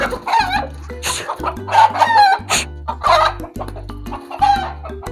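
A rooster fighting with a hen in a farmyard, loud close clucking and agitated squawks in quick irregular bursts, with crowing-like calls mixed in over a low steady hum.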